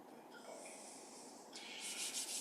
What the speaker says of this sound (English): Just rubbing your hands together and then tapping over your face.